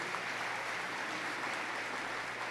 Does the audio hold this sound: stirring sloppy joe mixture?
no